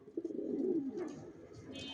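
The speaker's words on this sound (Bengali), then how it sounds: "এখানে সব অ্যাডাল কবুতর, এগুলো স্টকে রাখা" Adult racing pigeons coo softly nearby, with a low, throaty, rolling call in the first second and quieter bird sounds after it.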